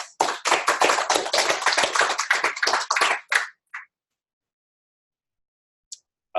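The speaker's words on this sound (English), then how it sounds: "Let's give Ricky a round of applause." A small group claps during a company-wide webcast, a few seconds of distinct, fairly close hand claps that stop abruptly, followed by a couple of stray claps and silence.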